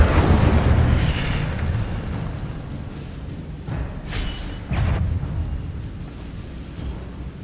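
A fire spell cast in Hogwarts Legacy, heard as a loud roaring burst of flame with rumbling booms that swell and fade across the stretch, with a couple of sharper bursts partway through.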